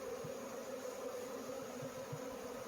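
Honeybees from a package hum with a faint, steady drone as they are installed in a hive, with soft scattered buzzes over a quiet background.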